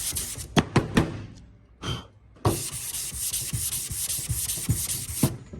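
Sanding block rubbed over car bodywork paint in steady back-and-forth strokes, a few short scrapes first, then a long continuous close-up rasping run.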